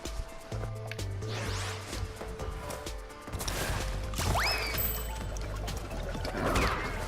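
Sewer water flowing and splashing in the Crash Bandicoot 2 level Sewer Or Later, a steady wet rush mixed with game effects, a rising whoosh partway through and scattered clanks and splashes.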